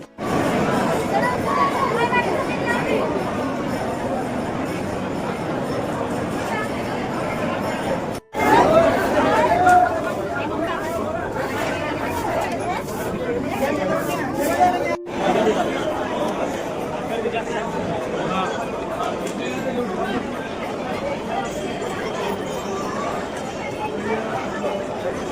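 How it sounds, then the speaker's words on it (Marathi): A packed crowd chatters at a busy temple in Akkalkot, a dense, continuous murmur of many voices close by that lasts throughout, with a few brief dropouts. "गर्दी भरपूर आहे."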